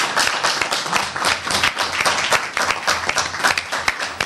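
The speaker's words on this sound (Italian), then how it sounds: "Un applauso al capitano!" A small group applauds the captain during a visit to a neighbourhood association's new headquarters in Rione Fornaci, brisk, dense clapping nearby and fairly loud, steady throughout with no talking.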